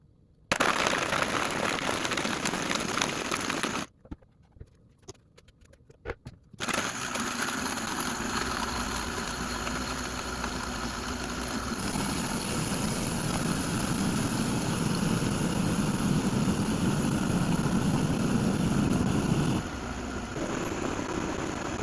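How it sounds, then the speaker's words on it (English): A blender whirs through a thick mix of protein powder, almond milk and ice, a loud, steady grinding roar that cuts out briefly near the start, then runs on for a long stretch before easing off at the end. "I was blending for quite some time, and I was going in and kind of scraping down the sides"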